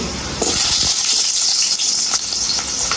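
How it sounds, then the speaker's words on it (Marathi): Chopped onion and two or three garlic cloves frying in a spoonful of oil for Indian-style pasta, a loud close sizzle that bursts in suddenly and hisses on steadily with small crackles. "इथे एक चमचा तेल घेतलेला आहे दोन तीन लसणीच्या पांगल्या टाकलेल्या आहेत एक कांदा टाकायचा इथे"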